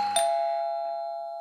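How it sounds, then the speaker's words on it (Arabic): A 220 V electric doorbell rings once after its button is pressed, a single bright chime that starts sharply and then slowly decays, heard alone and close. "راح يرن الجرس."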